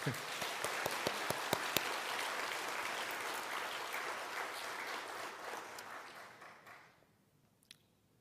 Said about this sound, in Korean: 이럴 때는 박수 한번 쳐도 괜찮아요.